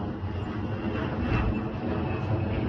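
Airplane passing overhead near an airport, a steady broadband engine roar that swells slightly mid-clip and holds loud throughout with no talking.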